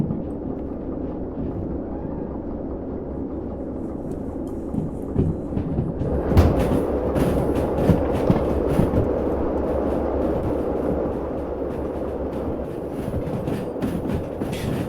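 A train shunting in the Derail Valley simulator gives off a steady, heavy rumble with a louder burst of metallic clanks and wagon knocks midway, then settles back into a continuous rolling drone.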